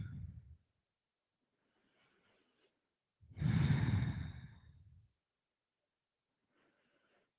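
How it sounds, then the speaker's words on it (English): Slow yoga breathing during a relaxation practice: one long, close, airy exhale swells and fades midway, with faint softer breaths before and after. "breathing into the back of the body and then breathing out"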